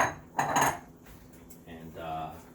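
Metal spoon clanking and scraping in a pot while breaking up cod in a seafood stew with okra, a loud burst of clatter early on followed by softer stirring scrapes.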